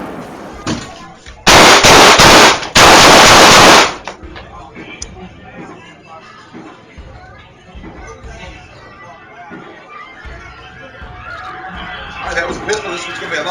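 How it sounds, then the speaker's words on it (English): Two loud pistol gunshots ring out close together near the start, each a sharp broadband blast, followed by quieter room noise and faint talk. "That was a pistol."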